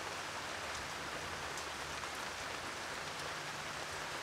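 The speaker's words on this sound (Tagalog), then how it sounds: "Pasensya mga kapulutan kung medyo maingay yung ano ha, tag, lakas ng ulan. Maingay yung ulan eh." Heavy rain falling in a steady, dense hiss, loud and unbroken for the whole stretch, with no voices or other sounds on top.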